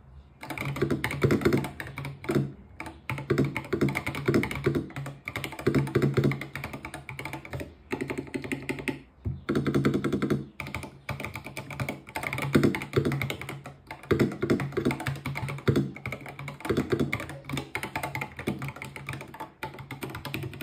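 Steady, rapid clacking of a mechanical computer keyboard being typed on continuously, close and fairly loud, with brief pauses between runs of keystrokes.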